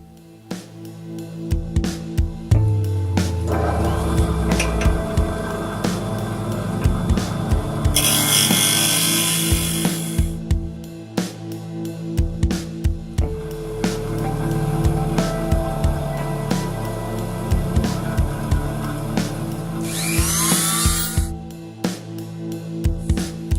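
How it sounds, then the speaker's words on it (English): Metal motorcycle parts being ground in a DIY workshop, with a harsh, loud hiss of grinding in two bursts amid clanks, scrapes and low droning, and no speech. "We just grind these, and there's the another, and attach these like that."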